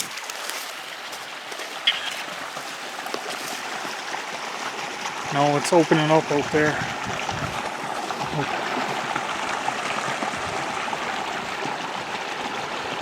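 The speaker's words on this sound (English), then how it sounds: "But this looks like a river." River water flows in a steady, continuous rush outdoors, loud and full throughout, while a person speaks briefly partway through.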